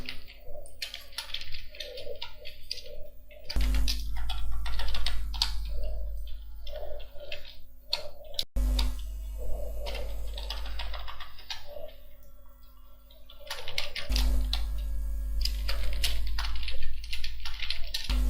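Rapid clicking on a computer keyboard while entering data into an Excel spreadsheet, continuous fast key taps close up over a low background hum, with no talk.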